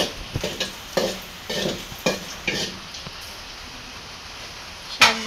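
Dried red chilies and chopped garlic frying in oil for greens, with bursts of stirring and scraping in the pan over a low sizzle, close and fairly quiet, with no talking.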